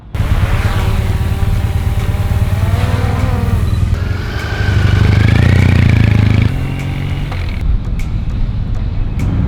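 A motorcycle ridden down a road: a loud, close engine drone with rising revs and gear changes, swelling as it accelerates and then easing off near the end.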